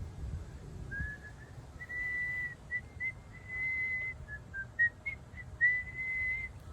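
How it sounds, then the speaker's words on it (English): Someone whistles a series of short and sustained notes at a soft-to-moderate level, starting and stopping in an uneven, practicing rhythm. "try to make that whistle sound"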